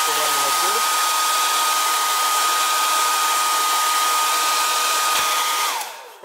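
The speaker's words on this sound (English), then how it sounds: "you should take the hairdryer and you start blowing air around it" A hair dryer blows hot air onto the back glass of a Nexus 6P phone, a loud steady roar held throughout before it switches off and winds down at the end.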